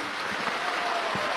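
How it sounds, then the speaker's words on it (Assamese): Sustained applause from a crowd at an Assamese political gathering addressed by the chief minister, a dense steady patter of clapping that fills the whole moment without a break. "ৰাইজেও এটা দীঘলীয়া হাত চাপৰি মাৰক।"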